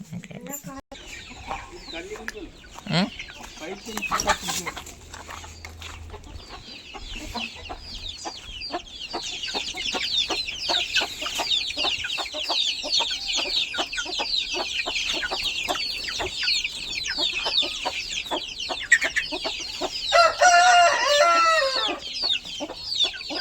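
Chickens and young chicks being raised for fast, healthy growth cluck and cheep continuously at close range, with dense high peeping from many chicks and occasional hen clucks throughout.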